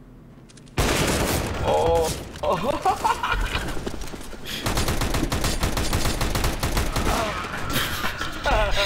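Rapid bursts of gunfire from a CS:GO match crackle almost continuously over about eight seconds, loud and busy, with a brief exclamation from a player partway through.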